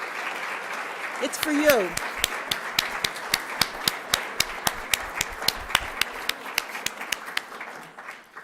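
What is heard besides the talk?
audience applause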